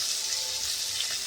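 Small shallots and slit green chillies fry in hot oil for a Kerala-style catfish curry, a brief, even, hissing sizzle heard close with no other sounds.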